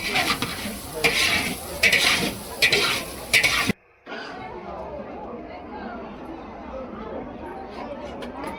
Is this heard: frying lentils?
yes